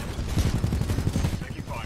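Rapid gunfire bursts in the Titanfall 2 video game, a dense rattling string of shots running through most of the moment and fading near the end, mixed with game sound.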